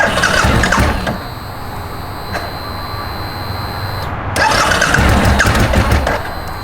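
A 2004 Suzuki V-Strom 1000 motorcycle engine runs steadily at idle, close and loud, with a brief lull in the middle before the rumble swells again, and a thin high whine sits above it.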